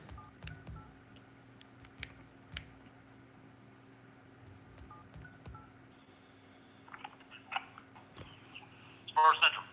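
Telephone keypad tones dialing a call to a county dispatch line, a run of short beeps spaced through the clip over a low steady hum, ending in a louder ringback burst.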